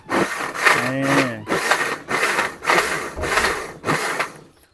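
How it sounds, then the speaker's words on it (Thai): A Sharp electric blender whirs through vegetables in repeated bursts, starting and stopping about every half second in a pulsing rhythm, with a brief voice-like tone early on. "ไปไปปั่นสำหรับเครื่องปั่นเราก็ใช้ชาร์ปนะ"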